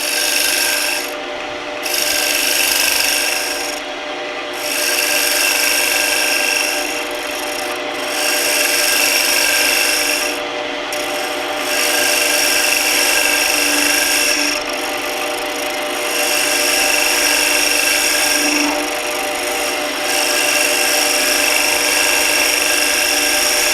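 A bowl gouge cuts a chamfer on a wooden table lamp base spinning on a lathe, a loud, steady rasping hiss in repeated passes of a few seconds each with brief breaks between, and no talking.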